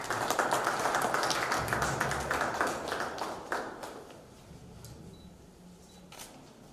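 Conference audience applauding to welcome a speaker: a dense patter of many hands clapping at the start, then thinning and fading into scattered claps and room quiet.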